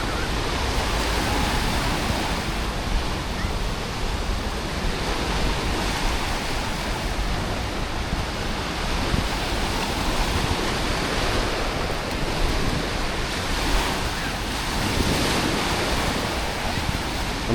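Ocean surf washing steadily onto the beach at Da Nang, a continuous broadband roar with gentle swells in loudness, some wind across the microphone and no talking.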